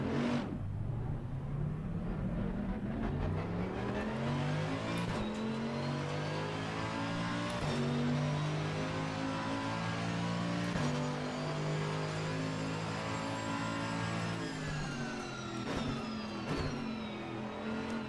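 A Mercedes AMG GT3 race car engine in a racing game, revving hard through rising gear pulls and shifts with a steady loud roar and whine throughout, sustained and close.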